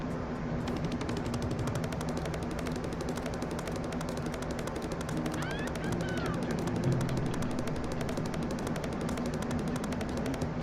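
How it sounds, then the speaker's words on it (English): Donkey Kong, levelled up in end-game play on a Nintendo Switch 2, pounds his chest at a furious pace, a dense and steady machine-gun-like drumming of fast thuds that carries evenly for about ten seconds. "since I have myself leveled up, I can like bang my chest really fast"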